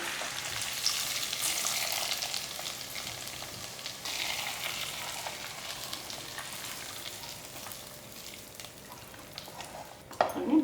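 A tempering for millet pongal crackles in hot oil, a dense continuous sizzle and spatter, close and fairly loud, easing slightly before a sharp knock near the end, with no talk.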